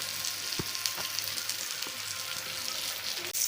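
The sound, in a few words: pomfret fish frying in oil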